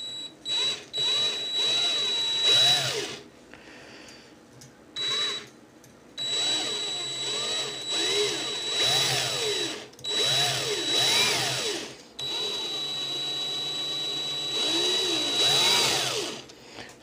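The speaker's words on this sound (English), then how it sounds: "Then I'm just going to spin my drill a bit." A power drill spins to wind wire into a vape coil, giving repeated whirring bursts that speed up and slow down. It runs close and loud, with short pauses between spins and no talking.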